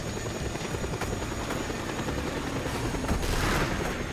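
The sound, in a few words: helicopter attacking in the video game Just Cause 2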